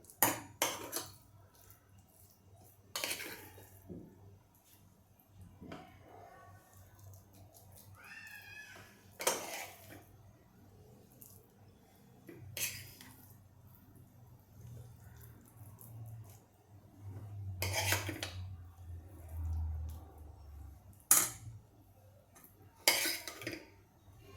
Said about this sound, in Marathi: आता मी हा भात यामध्ये काढते